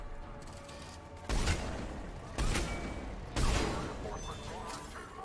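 Three loud, booming gunshots in Mass Effect 3 Legendary Edition, played on PS5, spaced about a second apart over a steady bed of game ambience and mechanical hum.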